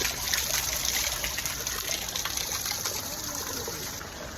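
Clear, cold stream water flowing beside an ancient Nageshwar temple near Bhor, Pune, heard as a steady close rushing gurgle that eases slightly toward the end, without speech.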